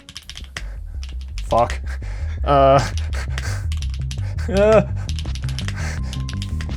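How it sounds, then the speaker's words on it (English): Rapid, dense key clatter from a custom mechanical computer keyboard during a speed typing test, steady and close throughout, with excited voices and laughter breaking in over it and one short curse. "we decided to challenge ourselves to a game of monkey type to see who types faster"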